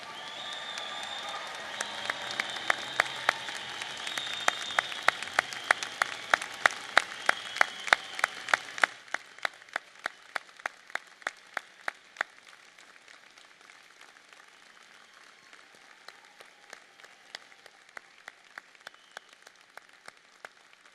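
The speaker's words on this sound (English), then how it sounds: "congratulate UFE's graduates of 2013 on their achievement with a hearty round of applause" Applause from the audience at a 2013 graduation ceremony, dense and loud for about nine seconds before thinning into scattered individual claps that trail off and pick up faintly again.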